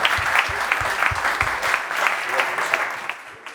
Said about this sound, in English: A warm round of applause, please,